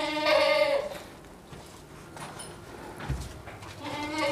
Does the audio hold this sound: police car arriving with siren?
no